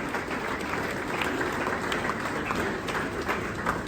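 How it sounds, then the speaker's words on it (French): Mourners at a funeral service applaud, producing continuous moderately loud clapping with a slightly muffled, crowded texture and no speech on top. "Est-ce qu'on peut applaudir pour le Seigneur?"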